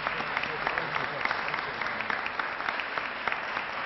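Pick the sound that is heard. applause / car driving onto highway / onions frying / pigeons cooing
applause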